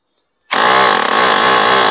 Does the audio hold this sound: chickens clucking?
no